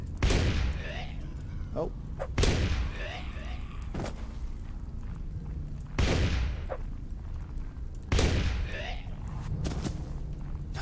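Pistol shots in The Reckoning, a Warband mod, come as several loud sharp bangs spaced a few seconds apart, each with a booming tail, while someone talks between them.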